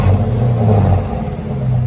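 Chrysler 300C with a 5.7L HEMI V8 and suitcase muffler exhaust, a deep steady rumble from the exhaust with a few swells in the revs, loud and close, no voices.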